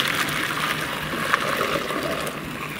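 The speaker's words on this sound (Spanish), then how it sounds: "voy a escurrir su agua" Boiling water being poured off a pot of cow and pork trotters, a steady broad rushing splash that runs the whole time at close range without any talk.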